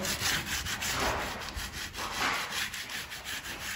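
Abrasive rubbing on a gilded wooden bed crown being roughed up to distress the finish, a steady close scraping that keeps going in uneven strokes, with no voices.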